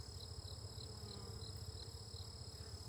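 Honeybees hum in a low, continuous buzz close by during a hive inspection, with a faint regular chirping pulse over the top and no voices.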